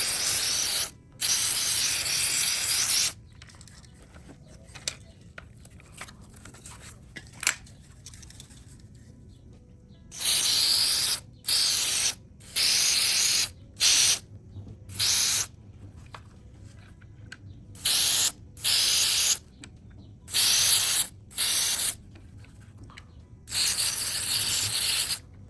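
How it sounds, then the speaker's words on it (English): Cleaner is sprayed onto the fan assembly of a Paslode CFN325XP cordless nail gun, heard as a long series of close, hissing aerosol bursts of varying length separated by short quiet gaps. "Next it says to liberally spray this like fan assembly here."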